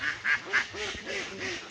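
Ducks on a duck farm quack in a short series of nasal calls, fairly close and overlapping, with no speech.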